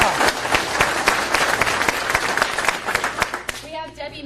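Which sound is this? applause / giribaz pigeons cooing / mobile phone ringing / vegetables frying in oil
applause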